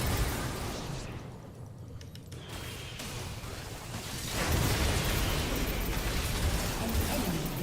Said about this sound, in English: Your turret has been destroyed.